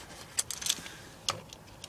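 A set of two keys for a Fiat Scudo Combi van jangling quietly close by, with a few bright metallic clinks in short clusters and soft handling noise between them.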